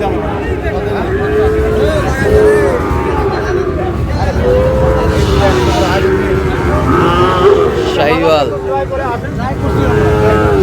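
Sahiwal cattle moo repeatedly at a busy livestock market in Dinajpur, the drawn-out calls rising over constant crowd chatter and people talking nearby, with engine noise in the background.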